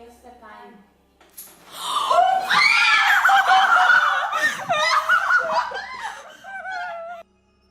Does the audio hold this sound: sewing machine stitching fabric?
no